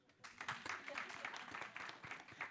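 An audience claps at a science outreach event, brief and faint, with scattered sharp claps under a soft background murmur.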